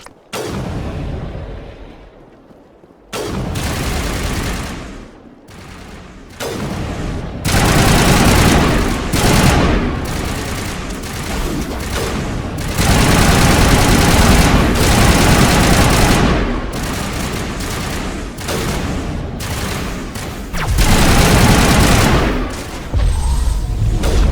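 Crossfire with Geth forces in Mass Effect: loud, sustained volleys of gunfire and machine-gun bursts with booming impacts, continuing almost without pause after a brief quiet opening.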